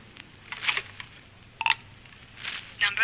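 A telephone in a phone booth is dialled in an old radio drama, with a series of short, clicking, whirring bursts spaced irregularly against quiet room hiss.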